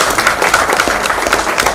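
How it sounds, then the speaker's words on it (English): A round of applause from an audience at a law and justice forum held at a university: dense, brisk clapping from a crowd, close and fairly loud through the whole moment. "I want to pay tribute and a round of applause"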